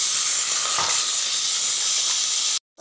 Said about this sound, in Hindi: इनको भी फ्राई कर देंगे